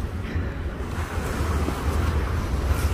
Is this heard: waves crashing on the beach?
yes